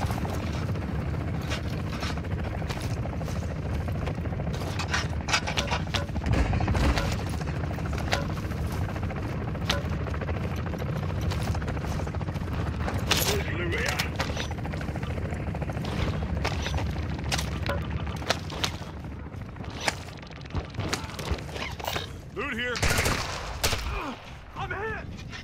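Dense shotgun blasts and booming gunfire fill a Warzone DMZ firefight on Ashika Island, loud repeated shots with explosions and players talking throughout.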